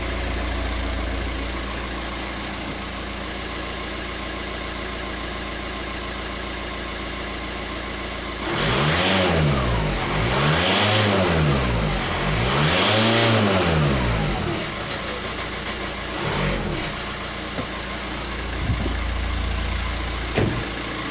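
A 2007 VW Touran with a suspected blocked DPF idles steadily, then three rising and falling revs swell over the engine drone before it settles back to idle, with a short blip near the end.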